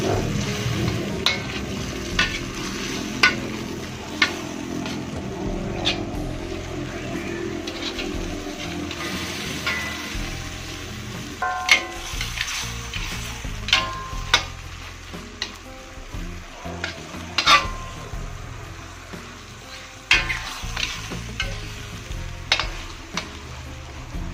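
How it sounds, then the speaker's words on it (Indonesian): Water spinach (genjer) being stir-fried in a pan, a steady loud sizzle broken by the scrape and clatter of a utensil stirring the greens, with intermittent sharper crackles throughout and no talking. "Sekarang kita masukkan genjernya. Aduk kembali."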